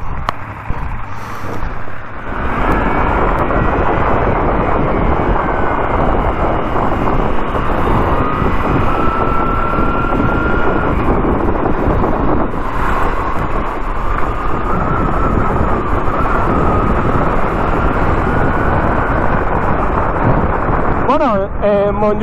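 A Moto Guzzi V7 III Racer motorcycle ridden on Montjuïc, with a steady, loud engine drone and heavy wind rush that persist throughout, rising slightly in pitch at times as the bike accelerates.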